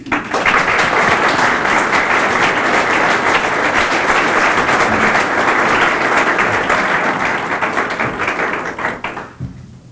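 Sustained applause from an indoor bookstore audience at the Tattered Cover in Denver, welcoming author Robert Eisenman to speak; dense, steady clapping holds for nearly the whole stretch before thinning out at the end.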